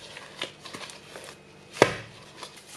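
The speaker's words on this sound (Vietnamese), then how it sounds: "tốt nhất thay vì nhồi thì mình sẽ đập như vậy" Soft bread dough slapped down hard onto a kitchen counter while kneading, one sharp loud thud standing out among a few lighter taps and handling noises.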